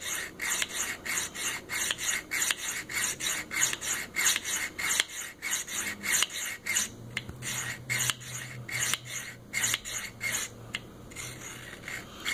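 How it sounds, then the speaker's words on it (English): A knife blade is ground on a Worksharp Field Sharpener in steady, rhythmic rasping strokes, each scrape short and close, repeating evenly throughout with a faint low hum beneath in the second half. "now we'll grind this side until we pop a nice even burr that we could feel on the opposite side"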